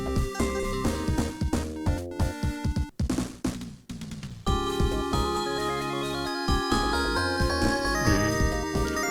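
Bright, glassy, crystal-like keyboard notes chime in a quick chiptune-style melody over bass, briefly stopping midway before resuming fuller; music from Sonic 3D Blast.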